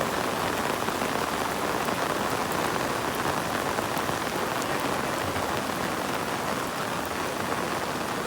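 A downpour of heavy rain drums steadily on surfaces nearby, a thick, unbroken roar of drops with no pauses or voices.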